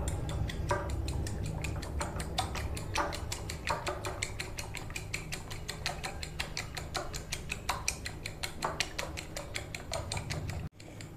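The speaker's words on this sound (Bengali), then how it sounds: "এবার ডিমটাকে ভালো করে ফেটে নেব" Eggs with sugar being beaten briskly in a bowl, a steady rapid clicking and tapping of utensil against the bowl repeating in a fast even rhythm, close and continuous, ending with a brief cutoff.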